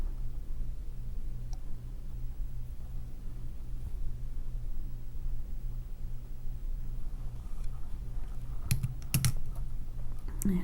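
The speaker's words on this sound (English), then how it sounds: "So I'm going to do a wire wrapped loop" Pliers work a wire loop for a beaded earring, producing soft, faint clicks and small metallic taps over quiet room hiss, with a brief cluster of sharper ticks near the end.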